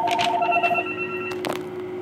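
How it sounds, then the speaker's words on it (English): A telephone rings with a clear electronic trill that repeats in short pulses, followed by a brief clunk. The sound is fairly loud against low background noise, and no one speaks. "Hate unsolicited phone calls."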